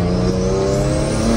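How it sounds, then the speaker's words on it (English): A BMW G82 M4 Competition's turbocharged engine revs loud and close in a single continuous roar that holds for the whole short burst. "Ain't nothing like a big turbo car, bro."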